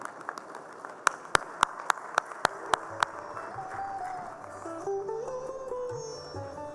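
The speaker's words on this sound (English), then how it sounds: "please stand up and clap loudly" At a medical conference, an audience claps in a short burst of about ten sharp, evenly spaced claps, and then a quieter, rougher crowd sound carries on beneath a faint tonal murmur.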